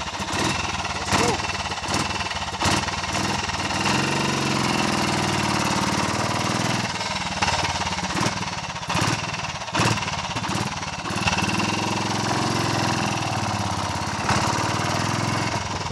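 BSA C15 250 greenlaner motorcycle engine running, a steady loud thumping idle with irregular pulsing bursts throughout.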